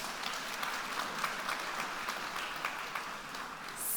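An audience at a fireside talk on food workers and union organizing applauds a guest, a steady wash of clapping from a seated crowd at moderate distance.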